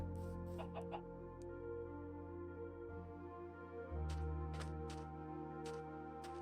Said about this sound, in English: but it's the chicken.